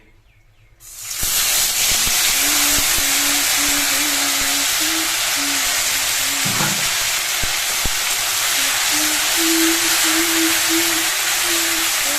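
Ground cumin and green chili paste drop into a hot pan, setting off a sudden loud, continuous sizzle and hiss that holds steady for several seconds, with no talk.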